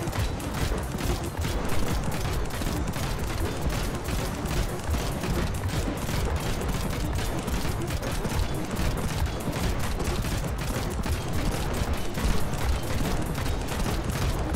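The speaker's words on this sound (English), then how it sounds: "One cannon, it's a lot of destruction." Cannon fire and destruction in the building game Trailmakers, a dense continuous barrage of rapid blasts and mechanical rattling, loud and unbroken throughout with no speech.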